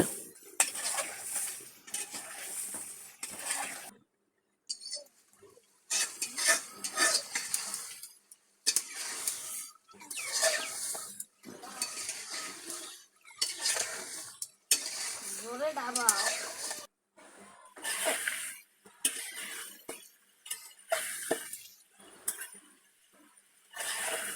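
Beef sautés with spices in a pot as a metal spoon scrapes and clanks against the sides in repeated bursts, with a soft sizzle beneath and short pauses between stirs.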